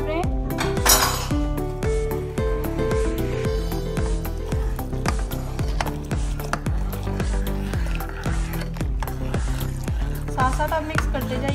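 Custard powder being whisked into milk in a metal pan, a steady run of rapid scraping clinks from the spoon against the pan, close and continuous.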